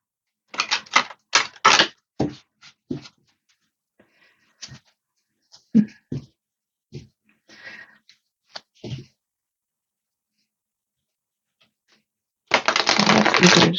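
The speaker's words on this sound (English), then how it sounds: "Going to shuffle it a few more times." A tarot card deck is shuffled by hand: several quick riffling bursts early on, scattered soft card taps and clicks through the middle, then a longer, loud continuous riffle near the end.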